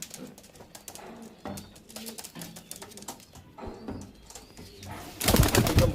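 Pigeons coo in a loft in soft repeated phrases close by, ending with a sudden loud burst of flapping or rustling.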